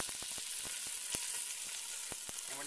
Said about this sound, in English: Put this right in here into our pan and see how it's sizzling.